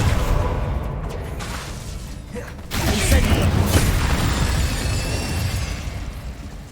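Spell explosions from Bombarda and Incendio in Hogwarts Legacy, a fantasy video game: dense crackling blasts and rumbling booms, with a sharp burst near the midpoint that lifts the level and keeps it loud, the busy combat noise continuing to the end.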